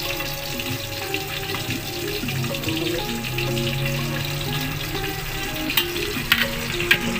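Fish frying in oil in a pan for a simple Filipino dining-ding lunch, giving a steady, close crackling sizzle throughout with faint water and stirring noises and a few sharper pops near the end.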